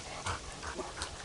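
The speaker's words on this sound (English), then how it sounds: "the dogs are really going crazy out here" Dogs outdoors give a few short whimpers and yips in quick succession, moderately close against a noisy background.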